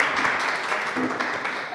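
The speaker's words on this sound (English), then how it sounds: "And just one more round of applause to our panel." An audience at a festivals masterclass session applauds a panel with steady, dense clapping throughout, fairly close and even in loudness.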